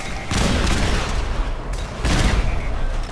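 Automated turret bot in the video game Fallout 4 firing two loud, sustained bursts of gunfire, each lasting over a second with a short pause between them, heard close with no talking.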